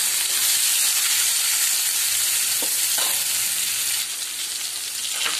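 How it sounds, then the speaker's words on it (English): Tomatoes frying and being stirred in a pan, a loud continuous hissing sizzle with a few soft clacks of the spoon, heard up close with no talking. "Mix the tomatoes well."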